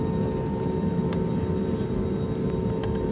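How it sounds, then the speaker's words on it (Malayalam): A steady, low roar of an IndiGo airliner's engines during takeoff, heard from inside the cabin, constant and droning. "ഇൻഡിഗോ ഫ്ലൈറ്റിലേക്ക് പറന്നു പൊങ്ങുകയാണ്"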